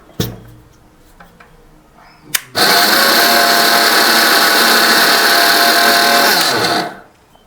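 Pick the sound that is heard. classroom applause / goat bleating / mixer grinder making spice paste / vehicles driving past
mixer grinder making spice paste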